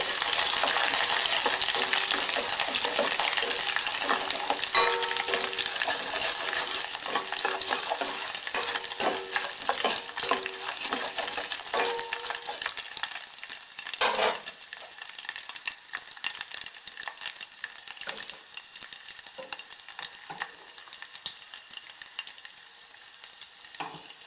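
Tempering of seeds, four dried red chillies and curry leaves fries in hot oil on a stove for Telugu pappu palakoora, a dense steady sizzle with occasional crackles and stirring clinks, close up, gradually easing off, no voices.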